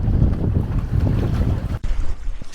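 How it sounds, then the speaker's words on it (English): Strong outdoor wind roars steadily across the microphone, buffeting loudly throughout with a brief dip near the end, with no speech. "I can't believe how windy it is"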